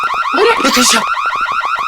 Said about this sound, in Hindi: ये अलार्म की आवाज यहाँ से क्यों आई?